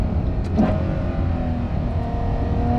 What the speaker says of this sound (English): how quickly these gears shift based on as my fingers interact with that paddle, right?